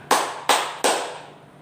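Three sharp hand claps spaced about a third of a second apart, close and crisp, each with a short room decay, played as a signal in a children's classroom activity.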